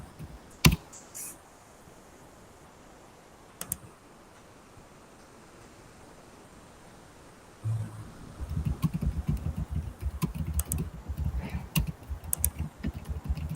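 Typing on a computer keyboard: a few isolated key clicks, then a steady run of close, rapid keystrokes over a faint hiss.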